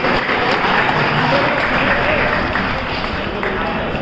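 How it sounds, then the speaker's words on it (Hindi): An audience at a school retirement ceremony applauds continuously, a dense, loud wash of clapping from many hands that holds steady throughout, with voices mixed into the crowd noise. "तालियों का जो है वो कमी ना हो, माहौल बना रहे"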